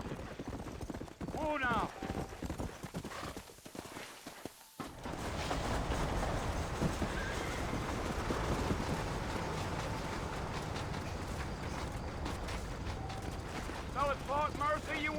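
Horses' hooves clip-clop steadily on a trail in the game Red Dead Redemption, with a wagon rolling along, people talking over it and a brief exclamation, the trotting close and continuous.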